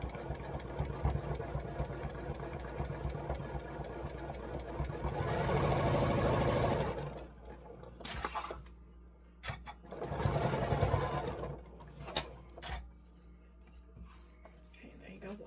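A sewing machine stitches quilt block seams in two steady, fast-running bursts separated by a quieter pause, close and fairly loud.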